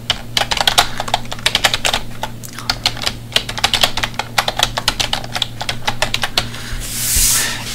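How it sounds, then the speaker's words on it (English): A computer keyboard being typed on to enter a name and email address, rapid close-up key clicks in quick bursts with short pauses, and a soft whooshing swell near the end. "now I'm just going to type my name"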